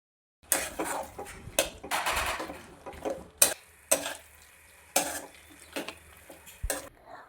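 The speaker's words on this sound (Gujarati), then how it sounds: "સિંગ ઉમેરીને બરાબર ફટાફટ હલાવીને મિક્સ કરી લઈશું." Peanuts stirred into hot melted jaggery in a pan while making peanut chikki, giving close, irregular scraping and clattering strokes of a spoon against metal in quick bursts, with no talking.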